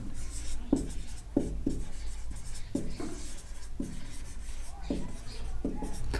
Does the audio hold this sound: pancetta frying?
no